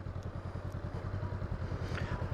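A motorcycle eases through a slow, tight turn from a stop, feathering the throttle in the clutch friction zone; its low engine putters in a steady, even pulse, fairly faint and uninterrupted.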